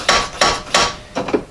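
A plastic hammer taps seized shifter rails on a Ford AA Doodlebug dual transmission under restoration, four close, loud, dull knocks spaced roughly a third of a second apart, the last a quick double strike.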